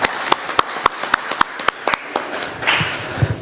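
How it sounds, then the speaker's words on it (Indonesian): Clapping from a seminar audience at an Indonesian discussion on election dispute case handling, short sharp claps spaced at a steady beat and then thinning out, in a large room with no talk over them. "Tepuk tangan dulu untuk Lemtari"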